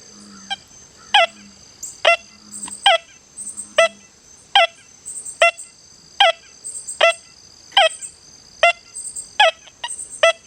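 An XP Deus 2 metal detector set to speed 2 with a maximum frequency of 24 gives a long run of short, sharp, rising target tones at a fairly steady rhythm. A thin high whine holds steady behind them, and nobody talks.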